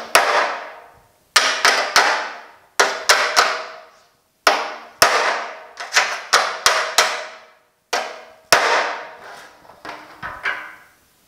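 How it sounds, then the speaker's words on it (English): Sharp metallic hammer blows ring out on a 1950 Chevy truck's sheet metal, bent back around a driven wedge, coming in close bursts of two to four strikes with short pauses between, loud and near with no talking. "we'll use that to hold the sheet metal apart while we hammer it back around."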